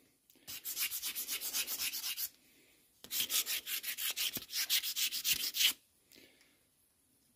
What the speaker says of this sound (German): Nur den Rost entfernen.